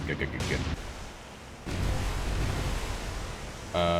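Heavy naval gunfire from warships in the video game War on the Sea, deep booming blasts and rumbling salvos rising and falling, with voices talking over parts of it.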